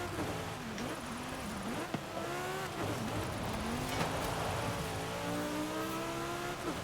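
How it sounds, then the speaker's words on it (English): Stock Peugeot 207 engine in the Forza racing game, revving and shifting steadily through gears with rising whines that drop and climb again, loud and continuous from start to finish. "It's the stock Peugeot 207"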